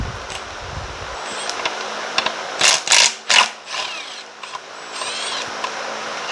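A ratchet works a 13mm bolt loose on the engine cover of a 2010 Equinox during a timing chain repair, giving a few short, close clusters of clicks over a quiet background.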